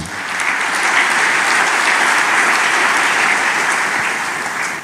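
A church congregation applauds steadily throughout, a dense, loud wash of many hands clapping together at a sustained level with no voices standing out.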